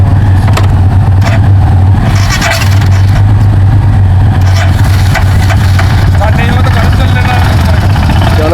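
A Royal Enfield Himalayan motorcycle engine cold-starting in sub-zero temperatures and revving, loud and close, with a steady low idle throb and bursts of throttle, mixed with some talk.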